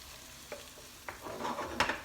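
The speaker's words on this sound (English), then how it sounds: "Let's give it all a mix around." A leek, tomato and melting cheese omelette mix being stirred in a hot pan, quiet sizzling with a few spatula scrapes and a louder stir near the end, close and brief.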